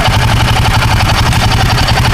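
A Royal Enfield Himalayan 450 motorcycle engine idles close by during a riding lesson, giving a loud, steady, even throb that holds without revving for a couple of seconds.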